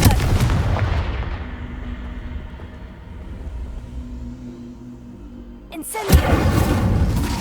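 A Confringo spell blast in the video game Hogwarts Legacy lands as a deep, booming burst that fades into a low rumble, followed by a second sharp explosive hit near the end.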